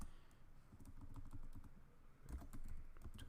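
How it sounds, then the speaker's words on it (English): Keystrokes on a computer keyboard come in quick irregular bursts of soft clicks, close and fairly quiet, as a short command is entered with a brief pause midway. "Let me just type directory."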